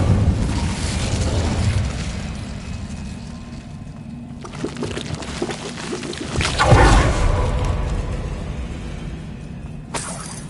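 A fiery spell explosion in Hogwarts Legacy erupts with a loud, close roaring burst and crackling shatter, then a rumbling whoosh that swells and slowly fades, followed by a sharp final impact.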